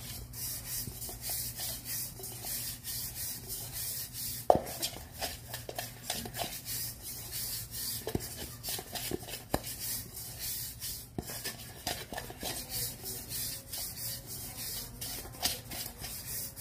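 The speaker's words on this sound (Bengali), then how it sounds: "দেখেন হাত দিয়ে এইভাবে করে পুরা মলটাতে এই তেলে একটুখানি তেল আমি লাগিয়ে নিব" A hand rubs oil over a cake mould in a home kitchen, giving soft, steady rubbing and scraping strokes with occasional small knocks, close and quiet, with no talking.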